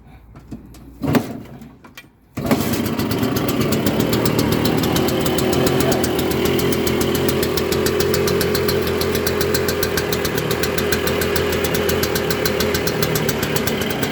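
A Lambretta LD150 scooter engine, started on the choke with no key, catches after a brief cranking burst and settles into a steady, loud, continuous idle that runs unbroken to the end.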